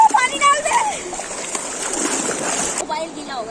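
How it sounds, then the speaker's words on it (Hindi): Water splashes and sloshes in the Kali river, near and fairly loud, with people talking and laughing over it throughout. "हम इनके मुंह पानी डाल दे।"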